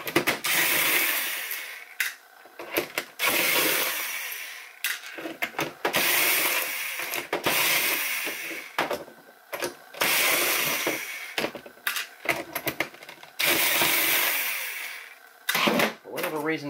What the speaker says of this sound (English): let's get the screws out of it